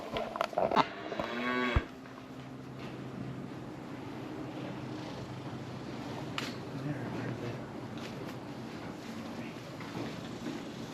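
Cattle on a farm low in a strong moo at the start, followed by a quieter outdoor stretch with faint rustling and light breeze.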